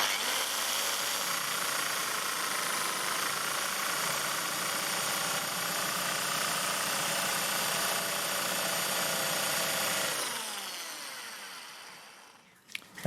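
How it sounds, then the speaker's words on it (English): A power drill with a blunt, asymmetric bit grinds steadily into wood, a loud continuous whirring buzz for about ten seconds that then winds down and stops. "Let's see how it drills."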